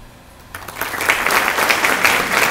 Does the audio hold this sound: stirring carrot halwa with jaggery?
no